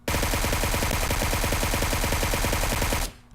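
A suppressed QBZ assault rifle fires in PUBG Mobile, one unbroken burst of rapid automatic shots, loud and close, lasting about three seconds before cutting off. No voice is heard.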